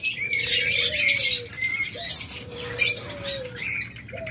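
A pair of sea green pet birds call from a cage at a bird sale, with several rising whistled notes over busy chirping and squawking from other caged birds nearby.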